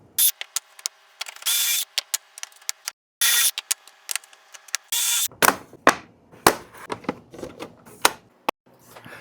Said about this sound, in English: I'll be drilling 3 pocket holes on both edges of one side of the 1x8 and 2 pocket holes on both edges of one side of my 1x4